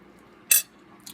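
Chutney fish being eaten with cutlery: a single short clink of metal on a plate in the middle of an otherwise quiet moment, with a faint tick near the end.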